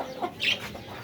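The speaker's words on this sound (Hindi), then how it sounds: "ये मुर्गी चूज़ों को लेके सबसे पहले आएगी दरवाज़ा खुलने की आवाज़ सुन के।" A hen with her chicks clucks at a coop as the door opens, giving a couple of short, close clucks, the second one sharper and brighter.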